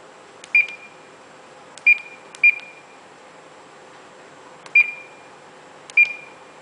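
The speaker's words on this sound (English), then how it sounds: "Cross-track alarm. This warns you when own ship is off its intended course." A ship's GPS cross-track alarm on the bridge sounds five sharp, short electronic beeps at uneven intervals, clear and isolated against a faint steady hum.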